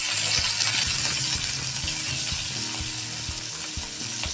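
Bay leaf, dried chilies and garlic cloves fry in oil, giving a steady crackling sizzle with faint metallic clinks underneath and no talking.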